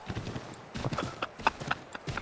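Horse hooves clip-clop in the Assassin's Creed video game, a quick, uneven run of soft thuds over about two seconds, moderately loud against light background game sound.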